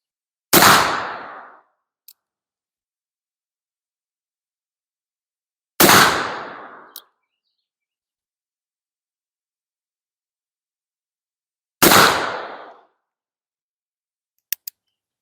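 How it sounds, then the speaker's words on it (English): Three loud black powder gunshots go off about six seconds apart during accuracy testing, each a sharp blast with a short decaying boom, followed by faint clicks of the action. "So let's see what 14 hours does."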